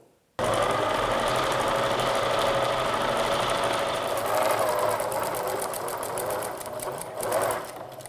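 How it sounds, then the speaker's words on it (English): A sewing machine stitching layers of fabric for a cloth sanitary pad runs in one continuous loud, close, rapid mechanical chatter after a brief silent start, its pace wavering slightly near the end. "So when it's all pinned up, then we're ready to sew."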